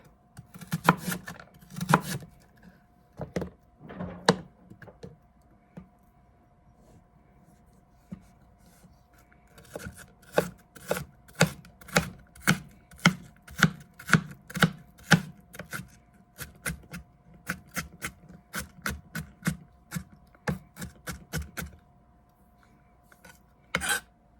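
Knife chopping sweet Vidalia onion on a board for a vegan flatbread pizza, sharp rhythmic taps in bursts, starting with a few strokes then a long steady run of close, crisp cuts.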